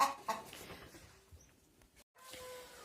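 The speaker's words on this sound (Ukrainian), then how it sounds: "бо курка дуже кричала" A hen clucking in a farmyard shed, a few short squawks and clucks at moderate distance, fairly faint, with some background noise and a quiet gap near the end.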